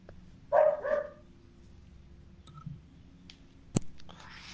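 A pet dog barks a few times from another room, a short cluster of muffled yaps, then quiet hum with faint clicks.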